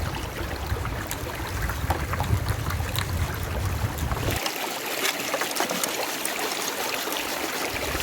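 Water rushes and trickles through a gold sluice box set at the drop point of a dug hole, a continuous close flowing wash whose low rumble drops away partway through.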